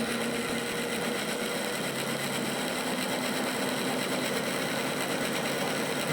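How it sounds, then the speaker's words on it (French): An electric motor on a technician's test bench spins up to speed, giving a steady, continuous whirring hum with a sustained high whine, loud and even throughout with no talk. "Donc là, le moteur prend de l'élan."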